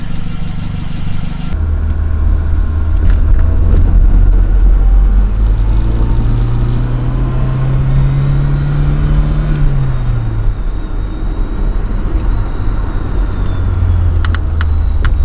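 A Volvo 240 wagon engine with an IPD performance exhaust drones from inside the cabin as it accelerates, the exhaust note rising in pitch through the gears, then settling into a steady cruising hum.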